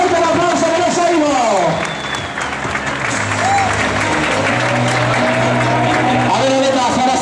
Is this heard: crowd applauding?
yes